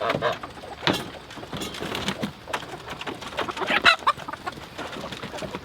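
Chickens cluck and squawk in short, scattered bursts, fairly close, with occasional sharper calls standing out.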